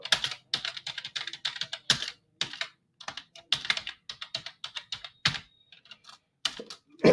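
Computer keyboard typing while entering party details in Tally accounting software, a close series of quick key bursts with brief pauses and a few heavier strokes, with no speech.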